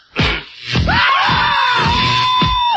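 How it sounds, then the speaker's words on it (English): Electric chair sound effects with screams on a rock radio show: harsh buzzing crackle under a long, loud, sustained human scream that rises and holds, with a shorter yelp at the start. "put in a whole lot of like electric chair sound effects and screams"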